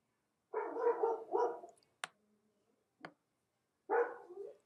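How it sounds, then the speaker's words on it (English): A dog barks outdoors in two quick bursts of a few barks each, a short pause with a couple of sharp clicks between them, and another bark near the end, moderately distant. "Sounds like my dog is having issues out here."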